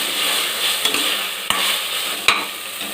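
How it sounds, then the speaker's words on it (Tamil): Mint, curry leaves and coriander sautéing with ginger garlic paste for mutton biryani, a steady close sizzle with a few sharp clinks of a ladle against the pan. "இப்போ புதினா, அடுத்தது கருவேப்பிலை, கொத்தமல்லி, இதுவும் சேர்த்துக்கலாம். சேர்த்துட்டு நல்லா வதக்கிக்கலாம்."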